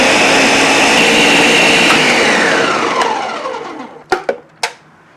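A loud, steady motorized whir runs for about four seconds, then winds down and cuts off, followed by three sharp knocks.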